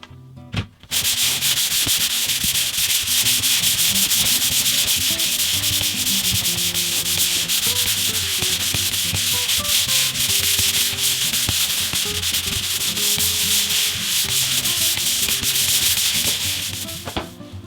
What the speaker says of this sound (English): So let's get it sanded down.